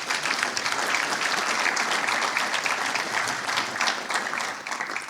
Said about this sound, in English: let's give the platinum sponsors a round of applause